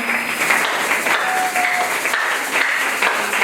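A church congregation applauding the Lord during a French-language sermon, sustained, fairly loud clapping from many hands that fills the space evenly, with no speech over it.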